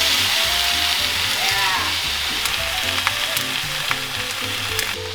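Marinated steak sizzles and fries steadily in a hot pan, a loud continuous crackle with occasional sharp pops and a faint clank of utensils near the close.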